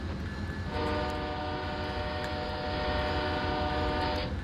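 Locomotive horn on a CSX train in Train Simulator 2020, blown at a road crossing: a loud, steady, multi-tone chord begins after a brief lead-in and holds for about three seconds over rumbling engine and rail noise, with no talk.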